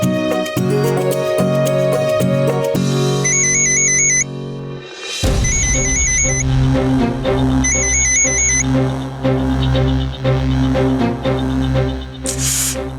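A phone rings with an incoming call in a Hindi TV drama scene, its repeating electronic ringtone chirps sounding in bursts over loud background music.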